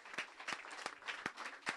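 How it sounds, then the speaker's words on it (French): A brief burst of audience applause at a cultural venue, with irregular claps under a faint crowd. "On peut les applaudir, on les applaudit encore une fois."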